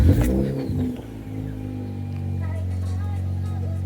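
A 2004 Mazda RX-8's rotary engine cranks and catches with a loud burst, revs briefly, then settles into a steady, humming idle close by.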